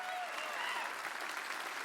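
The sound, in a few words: audience applause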